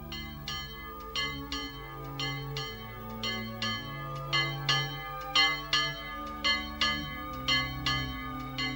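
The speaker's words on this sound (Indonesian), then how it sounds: "Dentang lonceng adalah tanda" Church bells ring out for Christmas in a rhythmic peal, clear sustained tolls repeating in a steady pattern, loud and alone.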